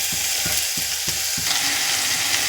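Onion and tomato pieces frying in a pan for a ridge gourd curry, a steady close sizzle with several rhythmic scraping stirs early on and no talking.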